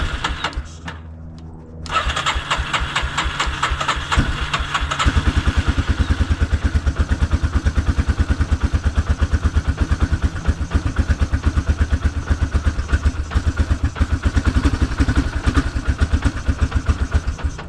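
A cheap ATV engine on half choke cranks briefly and starts quickly, then runs at a rough, rapid-ticking idle with clattery mechanical noise, moderately close and steady throughout, with no talking.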